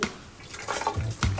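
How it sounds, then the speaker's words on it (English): Water leaks out in short splashing trickles and drips, faint and close, arriving in a few brief irregular bursts. "Sally, the water is leaking out."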